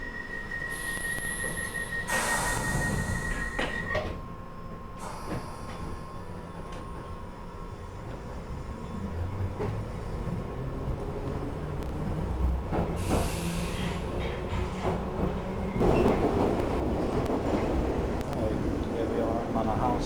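A London Underground Piccadilly line train bound for Cockfosters rumbles steadily along, with rising and falling motor whine and a few high squeals. An onboard announcement voice is heard over the running noise.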